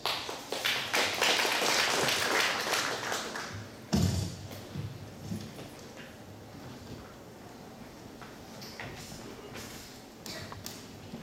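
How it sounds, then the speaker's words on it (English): Audience applause fills a summit hall, dense clapping for the first few seconds, then a thud and scattered claps trailing off into quieter room noise. "Please give them a round of applause."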